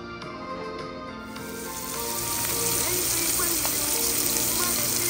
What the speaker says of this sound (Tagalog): ginigisa po po ang ating bawang, ang ating sibuyas, at ang ating luya